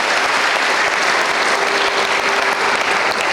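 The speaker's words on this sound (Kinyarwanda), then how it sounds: "mumpere umusemuzi amashyi menshi cyane" A church audience applauds the interpreter with loud, dense, continuous clapping from many people, a sustained wash of sound at close range with no pauses.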